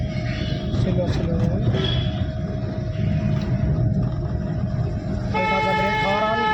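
Car horn honking in a couple of short toots from inside a car during a driving lesson, over steady road and engine noise, with an instructor talking throughout.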